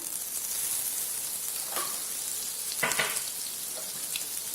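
Chili powder and spices frying in butter in a pan, a steady soft hiss of sizzling that runs throughout with a couple of brief stirring scrapes, close and fairly quiet, with nobody speaking.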